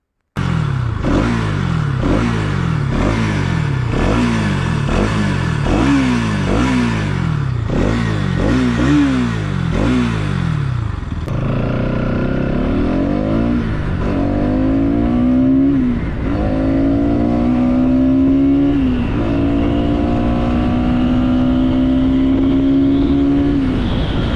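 A 2024 Bajaj Pulsar NS200 motorcycle revs repeatedly on the road, rising engine pitch through gear shifts in quick rhythmic sweeps, then longer pulls, loud and close with no talk.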